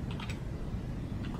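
Quick typing on a computer keyboard, a short run of light, close key clicks over a steady background hiss.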